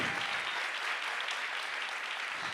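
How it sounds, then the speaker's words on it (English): An audience at a science slam during Berlin Science Week 2023 claps in a steady, even burst of applause. It is moderately distant and quiet. "An applause, please, for these people."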